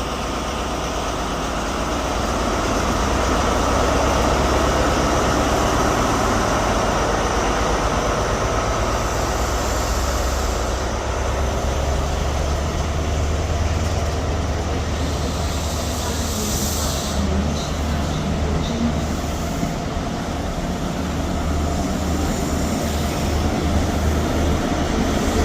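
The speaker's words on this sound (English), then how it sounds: "Departing out now is the 11:35 Scotrail service from Edinburgh Waverley to" Scotrail passenger service pulling out of Edinburgh Haymarket station, a loud continuous low engine rumble with rolling wheel noise on the rails, sustained close by for the whole stretch.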